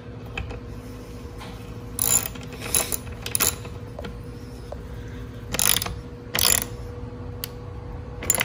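A ratchet tightens bolts during assembly of a Venom Motorsports 125cc mini jeep, giving short bursts of rapid clicking strokes spaced a second or two apart against a quiet hum.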